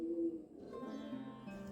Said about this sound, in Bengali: এখন চারিপাশে এত পায়রা ডাকছে